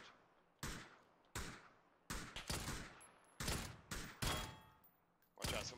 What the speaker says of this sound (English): Watch out, someone else is shooting.